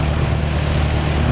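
A Skyhawk aircraft engine roars steadily and loudly, a dense low rumble with broad whooshing noise that holds constant throughout the short stretch, heard at an airport in Christchurch.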